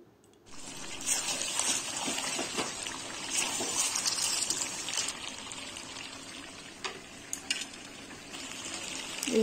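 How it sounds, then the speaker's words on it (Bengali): Chicken pieces and fried potatoes sauté in a pan for chicken curry, giving a steady close sizzle with scraping stirs and occasional sharper crackles throughout, with no talking. "এবারে চিকেনের মধ্যে ভেজে রাখা আলুগুলো দিয়ে আরও ভালো মতো কষিয়ে নেব।"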